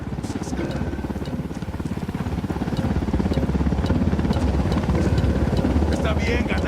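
Ghost Recon Wildlands helicopter with a steady, rapid rotor chop that grows louder and nearer over several seconds, heavy and continuous, with game voices and radio chatter over it.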